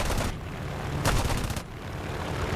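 A brief burst of rapid machine gun fire from a Boomerang Mk II fighter plane in War Thunder, lasting about half a second, rattling over a constant roar of the aircraft's engine.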